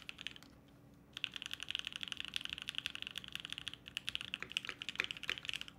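Close-miked typing on a Vero mechanical keyboard with a polycarbonate plate: a quiet, steady stream of quick clacky keystrokes that starts after a short pause and keeps a busy, uneven rhythm.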